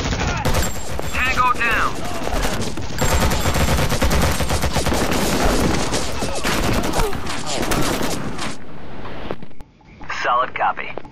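Sustained heavy automatic gunfire and bursts from the tactical shooter game Act of War: Direct Action, loud and dense for most of the stretch with a brief drop near the end, overlaid with radio-style voices.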